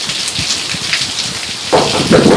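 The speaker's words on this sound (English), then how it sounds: "It's raining like a cat pissing on a flat tin roof." Heavy rain falls in the desert, a dense, steady downpour hissing close by that grows louder and fuller toward the end, with no voices.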